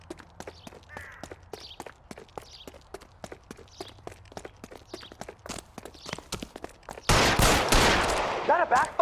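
Gunfire rings out in an L.A. Noire police chase, with dozens of sharp shots cracking in a steady rapid stream over footsteps, then a loud dense burst of noise near the end with a voice rising over it.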